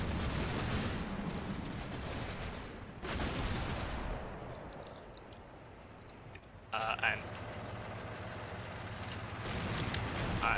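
Faint, distant bursts of small-arms and machine-gun fire in the WWII game Combat Mission Fortress Italy, rattling crackles and sharper pops set against a continuous battlefield rumble.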